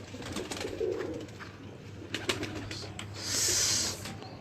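Pigeons kept in a breeder's cages coo in low, soft bursts, several birds calling intermittently at close range over a steady background hum.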